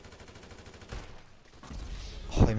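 Gunfire in a multiplayer shooter video game: a soft shot or two early, then a louder burst near the end over a low, muffled game background.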